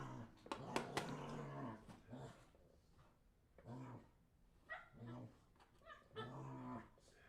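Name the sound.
puppies whimpering and growling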